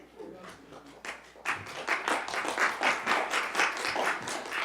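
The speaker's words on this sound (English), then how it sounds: "Let's hold applause in the future" Applause from the audience at a county board of supervisors meeting, a burst of several seconds of clapping by a small crowd that builds after a few scattered early claps, fairly close in an indoor room.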